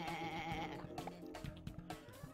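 A sheep in the video game Une Faim de Loup lets out a wavering, drawn-out bleat, followed by softer clicks and game sounds, moderately close with no speech over it.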